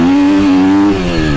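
A KTM semi-factory race motorcycle with a quick shifter pulls hard under load, its engine note loud and close, a steady high rev that dips briefly as a gear changes before climbing again.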